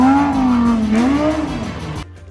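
A car loses control and crashes at the roadside, a loud close engine howl with a wavering, squealing tone that dips and rises before cutting off abruptly into quieter noise.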